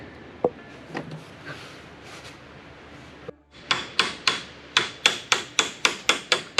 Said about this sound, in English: Got through the nut enough to break the tension, and now we're just tapping it off.